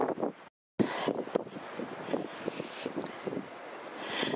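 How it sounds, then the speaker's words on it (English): Gusty wind blows in a snowy outdoor spot near a sheltering rock, a rough roaring rush buffeting the microphone with a brief dropout, fairly close and uneven, no talking. "I can hear the wind the other side of the rock"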